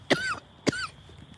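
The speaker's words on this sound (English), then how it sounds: "I wish I could get rid of this cough." Two sharp coughs from one person, close and fairly loud, about half a second apart, with a quiet room between them.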